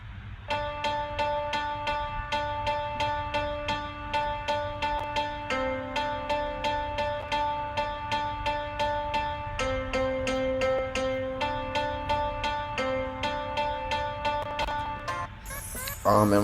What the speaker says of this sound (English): Chinese stringed instrument that sounds like this.